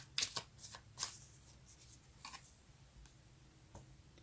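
Tarot cards being shuffled by hand: a few quick riffling bursts near the start, then softer scattered flicks and taps, fairly quiet and close with no talking.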